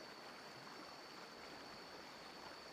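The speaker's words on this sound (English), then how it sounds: "Just the river." A river flows steadily at night, its broadband rush of moving water constant and unbroken from start to finish, with no voices over it.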